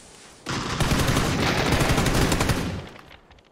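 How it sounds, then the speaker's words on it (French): Rapid automatic gunfire in the PUBG battle royale game on the Erangel map, a loud continuous burst lasting about two and a half seconds, sharp and close, with no voices. "T'as tiré sur le cadavre?"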